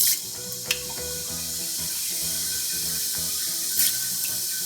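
Cumin seeds (jeera) hiss and crackle steadily in hot fat over a medium flame, a dense continuous sizzle close by with a few sharper pops, no voices.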